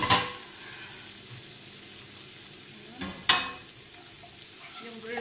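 Chicken sizzles steadily on a grill with a broad, even hiss, broken by a couple of sharp clattering bursts partway through; nobody speaks.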